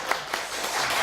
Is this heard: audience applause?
yes